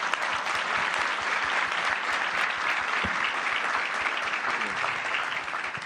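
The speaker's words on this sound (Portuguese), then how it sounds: "Salva de palmas aqui para..." A business conference audience gives sustained applause, dense and even clapping that fills the room at steady loudness from start to finish.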